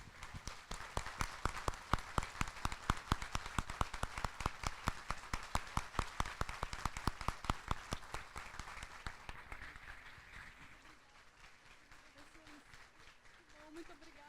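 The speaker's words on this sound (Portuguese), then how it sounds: "Uma salva de palmas" Enthusiastic audience applause at a congress, dense rhythmic clapping that builds for about nine seconds, then thins and fades into scattered claps and murmuring.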